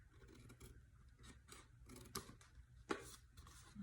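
Scissors cutting paper at an angle along a score line while making a gift box, soft close snips and a crisp cut, with faint rubbing between strokes.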